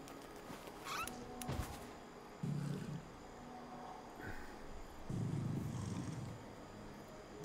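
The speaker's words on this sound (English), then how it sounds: "The fox is purring just like you, kitty." A cat purrs softly and close by, in faint rhythmic bursts with quiet gaps between them, over a low background hush.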